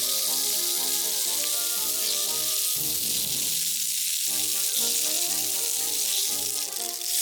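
Leek and ginger sizzle steadily in an oiled pan as they are rolled around to brown evenly for a bento, a continuous close frying hiss with brief clatters and a short water-like wash partway through.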